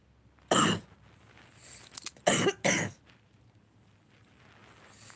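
Three harsh coughs burst out close by, the first alone and the last two in quick succession, with brief quiet between.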